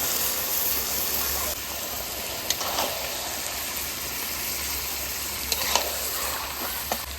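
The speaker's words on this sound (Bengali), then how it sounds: "এবার মাংস দিয়ে মশলাটা কষাবো" Goat mutton sautéed with spices in a pan, a steady close sizzle and hiss throughout, with a few sharp scraping knocks from stirring scattered along.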